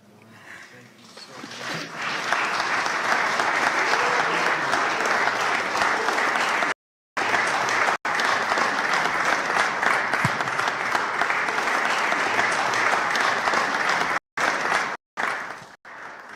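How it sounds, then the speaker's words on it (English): Sustained loud applause from a conference audience at an interfaith gathering, dense clapping that swells in over the first two seconds and carries on steadily, with a few abrupt cuts near the end. "Give her a wonderful hand clap."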